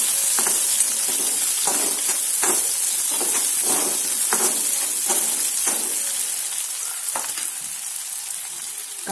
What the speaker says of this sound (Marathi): आता याच्यात आपण आपला कांदा टाकून देऊया। कांदा पण आता छान परतून घ्यायचा।